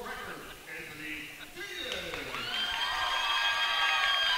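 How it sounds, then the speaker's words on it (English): A home crowd at a high school wrestling conference championship in Milford breaks into cheering that swells from a murmur into a loud, sustained roar, with commentators talking over it at first. "Home crowd's loving it."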